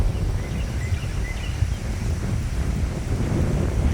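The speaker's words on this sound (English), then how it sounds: "Here comes the wind." Gusty wind rushes steadily across an open garden as a storm approaches, a continuous loud roar buffeting the microphone for the whole stretch with no talking.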